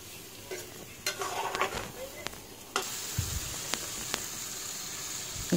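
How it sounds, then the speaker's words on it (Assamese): Fish frying with masala in a wok gives a soft, steady sizzle, broken by a few sharp clinks and scraping stirs; quiet and close. "তাৰপিছত মাছ এই মছলাৰ লগত মজাই ল'ম"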